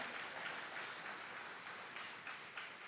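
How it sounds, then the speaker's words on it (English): Crowd applause at an agritech business forum as a guest walks up to the stage, a dense, even wash of many hands clapping, heard at a distance and fairly faint, steady for the whole stretch with no voices. "Put your hands together for him as he comes"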